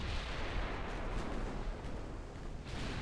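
Naval shellfire in Ultimate Admiral Dreadnoughts comes as a continuous, low, rumbling wash of distant heavy guns with soft, blurred booms and no clear single shot, fairly quiet throughout.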